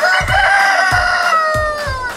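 Chickens at a large egg farm holding about 12,000 birds crow loudly and close by, with a drawn-out rooster-like call over repeated low clucks and thumps.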